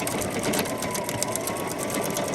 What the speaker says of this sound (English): So we're going to go ahead and stitch that to here.